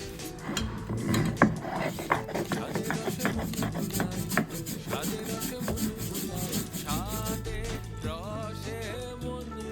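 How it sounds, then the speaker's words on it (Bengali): Poppy seeds being ground into paste, heard as a steady rubbing and grating, with rhythmic scraping strokes close up. Background music plays throughout. "এখানে পোস্তটাও বেটে নিলাম"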